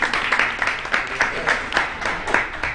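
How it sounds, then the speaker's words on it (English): Audience at a cancer and palliative care conference in Uganda applauds, a steady patter of many hands clapping across the whole stretch at moderate distance, with faint voices beneath. "Probably we need a big clap for Cancer Institute."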